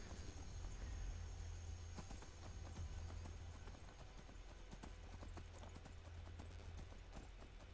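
Horse hooves clip-clop steadily and quickly while riding in the Skyrim video game, a continuous rhythmic trot over game ambience and low rumble, with no talk.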